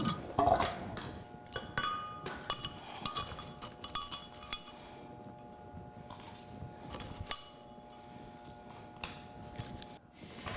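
Crushed ice scraped and scooped out of a blender jar, a run of close, bright clinks and rattles with no voices, busiest at the start and continuing intermittently throughout.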